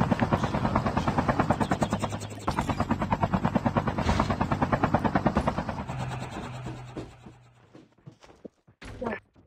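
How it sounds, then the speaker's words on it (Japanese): A helicopter in the mobile shooter Call of Duty Mobile gives a loud, fast, continuous rotor chop that fades somewhat toward the end, with short bursts of game noise near the finish. "ヘリコプターがあった。"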